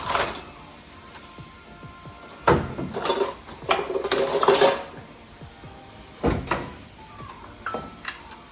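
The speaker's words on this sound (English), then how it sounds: "now I'm gonna throw the dishes in the sink" Dishes, pots and cutlery clatter as they are tossed into a kitchen sink during a cleaning session, with several loud clanking bursts separated by quieter moments.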